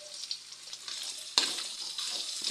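Baguio beans sautéing in a hot pan, a steady close sizzle with a sharper burst of frying midway as more food hits the oil.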